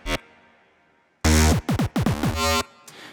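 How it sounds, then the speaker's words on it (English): A bass track plays in Ableton with the frequency splitter switched off, a loud punchy synth bass in short rhythmic notes with pitch-sliding hits after a brief opening blip and a pause. "When I turn off the frequency splitter, the bass track sounds like this."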